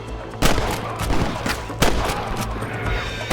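Gunfire and cannon blasts in the Red Dead Redemption video game: sharp, loud shots crack out irregularly, with two heavier booms standing out above a constant noisy battle bed.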